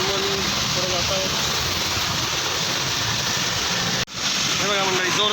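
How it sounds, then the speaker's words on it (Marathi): Heavy rain pours down outside a vehicle on the way to Panvel, a loud, dense hiss of rainfall and road wash filling the scene, briefly cut by a sharp break, with faint voices beneath. "पाऊस बघा जोरदारच चालू आहे."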